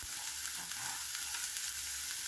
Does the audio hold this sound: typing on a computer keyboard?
no